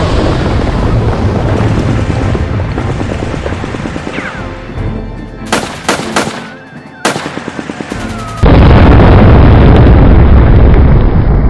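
A C4 charge detonates in an animated scene, with loud crackling bursts and pops over a noisy rumble, then a heavy, sustained roaring blast that fills the end.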